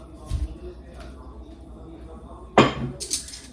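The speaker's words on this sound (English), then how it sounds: "This very elegant silverware was given to me by Kingston" Elegant silverware clinking against plates at a home brunch table, with a soft knock early on and a sharper metallic clatter near the end, close by.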